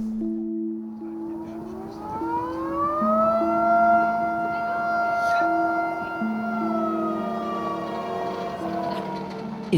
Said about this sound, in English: In Dawson, the firehouse siren rings out to announce the arrival of the first competitor.